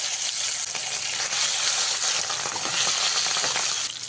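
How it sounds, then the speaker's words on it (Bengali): Pieces of rohu fish fry steadily in hot oil, a loud, continuous sizzle with crackling spatter that holds even throughout and dips slightly at the very end. "একই পদ্ধতিতে বাকি মাছগুলো সব আমি ভেজে নেব"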